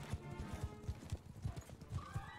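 Horse archers gallop in Mount and Blade 2 Bannerlord, a quick rhythmic clip-clop of many hooves close by with a horse whinnying near the end.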